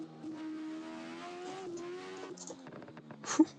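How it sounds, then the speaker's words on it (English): A race car engine in the driving game Assetto Corsa revs hard, its pitch climbing steadily through a gear, with a brief sharp burst near the end; no talking. "I think this is probably one of the best sounding cars I've ever driven in this game."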